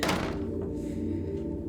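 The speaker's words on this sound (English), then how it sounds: "Just the door, closed behind us." A door slams shut with one loud thud at the start, followed by a lingering hollow rumble that fades slowly through the room.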